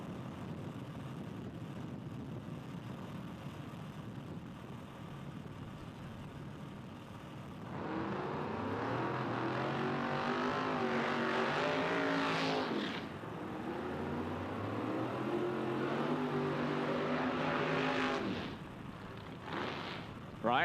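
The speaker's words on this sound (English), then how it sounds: "Corey Smith lets go 21, 994. Short time, 260 with a 5 through the middle and a 407 off the throttle." Drag racing cars make a pass at the PDRA East Coast Nationals, a loud, distant engine roar that swells and holds with a rising-falling pitch, heard amid broad crowd and track noise.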